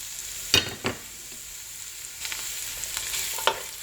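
Finely chopped small onion sautéing in a pan on a medium stove, a soft continuous sizzle with a few sharp clacks of a spoon against the pan, near and moderately quiet.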